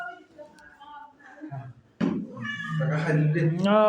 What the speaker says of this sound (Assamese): আমাৰ এইটো মেকুৰী এটা আছে পুৰা মেও মেও কৰি আছে ভাত খাবলৈ বিচাৰিছে